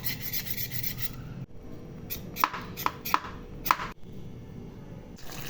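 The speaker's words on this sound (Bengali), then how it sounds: "সেজন্য ৮-৯টি পটল নিয়ে এভাবে চেষে নিচ্ছি।" Pointed gourds having their skin scraped off by hand, giving a close, quiet rasping rub with a few sharper scrape strokes in the middle. No one speaks.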